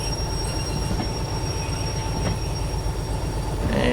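A heavy locomotive in the Derail Valley train simulator rolls in reverse along the rails, with a steady low rumble, continuous metallic wheel squeal and faint clicking from the track, with no voices.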